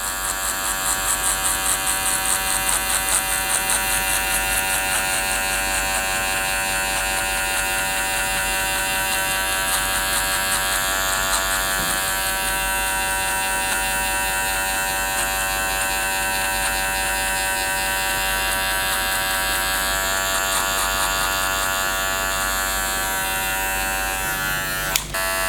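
Barber's electric hair clippers, blade open with a number 1 metal guard, setting a skin fade guideline; a loud, close, unbroken buzz holds steady the whole time with no talking.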